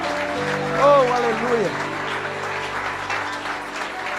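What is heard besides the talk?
church congregation applauding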